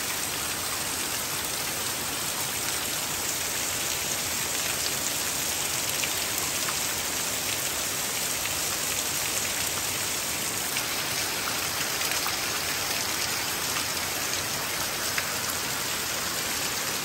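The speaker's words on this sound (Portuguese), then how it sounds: "E a chuva apertou de verdade agora sim" Heavy rain pours steadily onto a rural vegetable garden, making a dense, even hiss of drops that stays close and constant with no other sounds.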